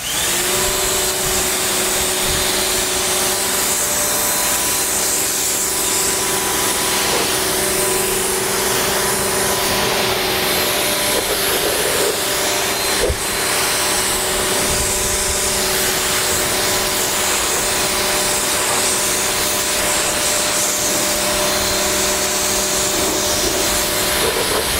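A car being rinsed of foam with water after a DIY ceramic-coating detail, a steady, loud spray hiss running without a break and under no talk, with a low constant machine hum beneath it.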